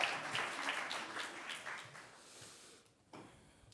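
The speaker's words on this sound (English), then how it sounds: "Can I get a round of applause for the people in the back?" A storytelling audience claps for the people in the back, a burst of crowd applause that fades over about three seconds before a short quieter gap and a brief last stir.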